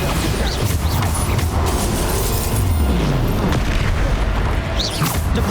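Bombarda explosion spells from Hogwarts Legacy played on the Switch, a dense, loud run of booming blasts and rumbling mechanical crunches with rising whooshes, continuous and close with no pause.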